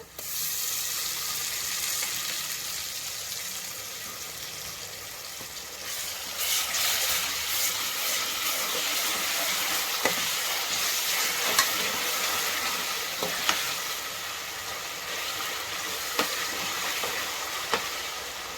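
Onion fries with ginger garlic paste and coriander paste in a pan, crackling steadily at close range. The sizzle swells louder partway through as the pastes go in, and a few sharp spoon taps cut through. No one speaks.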